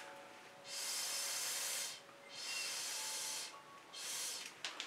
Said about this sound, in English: so I'm incredibly inclined to blow some of that paint